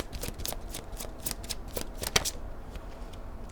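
Cosmic oracle cards being shuffled by hand, a close series of quick riffling bursts in an uneven rhythm, with a sharper snap near the middle, and no talking.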